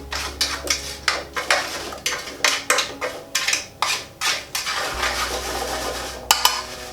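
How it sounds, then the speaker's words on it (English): Sweet potato pieces tossed around a metal baking tray give a rapid series of rattling, scraping clatters, close and fairly loud, in uneven rhythmic bursts with no talking. "give that a good toss around the baking tray"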